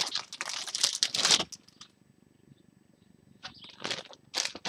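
Packaging on a LEGO Legends of Chima magazine being torn open: loud bursts of crinkling, ripping plastic and paper close by, then a quiet pause before more tearing.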